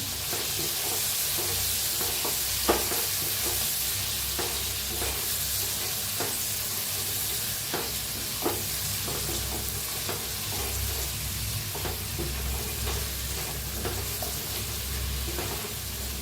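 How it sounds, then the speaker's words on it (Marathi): Stuffed ridge gourd fries in oil in a pan and is gently stirred, giving a dense continuous sizzle with regular soft scrapes and taps throughout. There is no speech. "भाजीला हलक्या हाताने मिक्स करून घेऊया"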